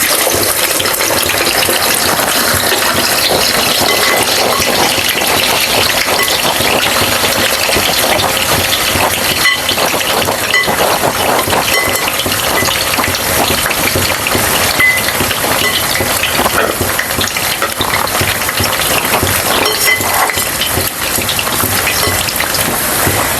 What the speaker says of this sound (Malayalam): നമുക്ക് എണ്ണ തിളച്ചിട്ടുണ്ട് കായം കൊണ്ട് ഇട്ട് കൊടുക്കാം